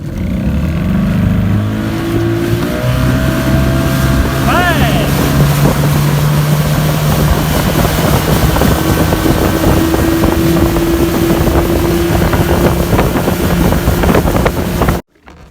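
A fishing boat's engine, warmed up and running before heading out to fish for giant snakehead, drones steadily and loudly throughout, with wind buffeting the microphone and a brief rising whine partway through.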